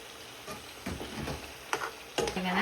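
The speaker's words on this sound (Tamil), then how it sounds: "இப்போ நான் இதோட வந்து நான் கருவேப்பிலை வந்து சேர்க்கிறேன்." Curry leaves dropped into hot sesame oil in a Tamil-style mutton-liver varuval, giving quiet crackles and sharp pops in a few bursts over steady sizzling, close and fairly soft, with no talk.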